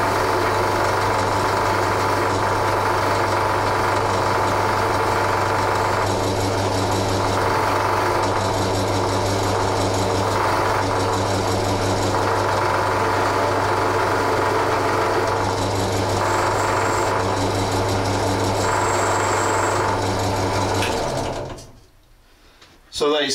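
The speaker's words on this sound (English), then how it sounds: "I tend to use a brass wheel rather than a steel one because it's just a bit gentler on parts" A brass wire wheel spins steadily against corroded motorcycle brake pads from a Triumph Scrambler 1200, a continuous loud whirring grind with a low hum running throughout, stopping abruptly near the end.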